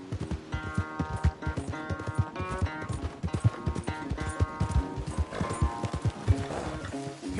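Horse hooves clip-clopping at a steady gallop rhythm with occasional whinnies in Red Dead Redemption II gameplay, mixed under busy game music and effects, fairly close and moderately loud.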